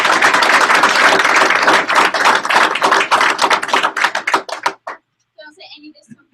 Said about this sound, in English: I think that deserves a bigger round of applause.